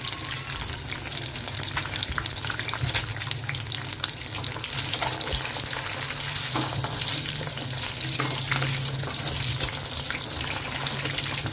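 Eggs frying in hot oil for egg biryani, a loud, dense, continuous crackling sizzle heard up close and holding steady throughout, no voices.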